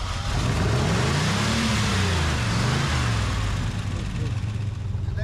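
A 1968 Plymouth Road Runner engine running after being parked 38 years, revving up and down in rising and falling sweeps before settling into a rough, loud, steady roar, with people's voices mixed in.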